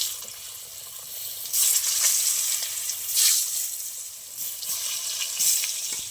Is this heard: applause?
no